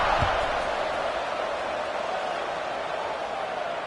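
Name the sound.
football stadium crowd buzzing after a score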